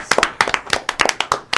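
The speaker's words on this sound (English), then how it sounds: "Give him a round of applause." A small group claps briefly in a room, a dozen or so sharp, uneven hand claps close by with no cheering.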